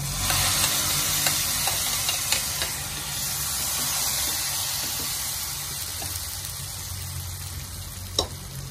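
Fried tempering poured into a pot of erissery curry, giving a loud, steady sizzle with bubbling and stirring scrapes, plus a few sharp clinks near the end.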